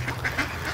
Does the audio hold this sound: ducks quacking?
yes